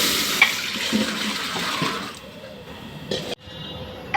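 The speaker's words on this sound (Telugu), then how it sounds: "నేను 4 గిన్నెలు నీళ్ళు వేస్తున్నాను." Water pours into a cooking pot for boiling flour, a loud close gushing stream that thins and stops partway, followed by a brief clink and a second short splash.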